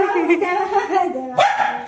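A dog barks a few times inside a home, short sharp yaps mixed in with nearby people talking.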